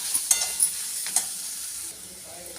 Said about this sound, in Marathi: आता याला छान तळून घेते.